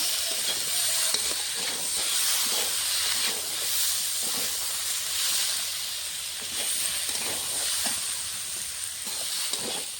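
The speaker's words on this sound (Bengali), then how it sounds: "মশলার সঙ্গে আমি সবজিটা ভালো করে কষিয়ে নেব।" Spinach-stalk vegetables with potato sizzle steadily as they fry with green chilli, ginger, cumin and ground spice paste, a continuous close hiss with faint stirring scrapes and no speech.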